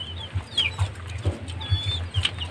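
Hens and chicks on a mountain farm clucking and peeping close by, a steady run of soft repeated clucks with higher chirps over them, no talking.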